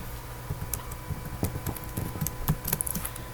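Someone types on a computer keyboard while entering a search prompt for ChatGPT, the irregular soft key clicks and taps close by over faint room hum, with no talking.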